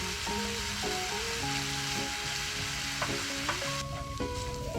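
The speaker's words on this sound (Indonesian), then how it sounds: "Selanjutnya panaskan minyak dan tumis bumbu halusnya, bawang putih dan bawang merah. Tumis hingga matang dan harum." Ground garlic and shallot spice paste sautéing in hot oil, a steady close sizzle that continues throughout with music playing over it.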